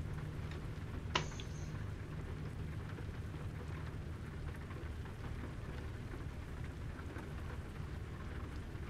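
Steady rain hits a truck cab while driving through Alaska in American Truck Simulator, a constant dense hiss over a low engine hum with one brief sharp tone near the start.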